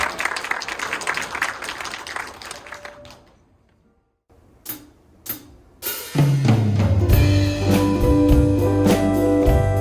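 Audience applause at a Korean band's regular concert after a hula instructor is introduced: clapping fades to near silence, a few isolated claps follow, then music begins.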